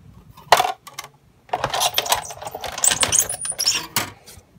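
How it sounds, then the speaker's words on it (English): A Big Shot die-cutting machine cranking a Blossom die and technique pieces through its rollers, giving close, irregular clicking and ratcheting clatter in short bursts after a brief pause, with no talking. "So now I'm going to run the Blossom die through the Big Shot with each technique piece."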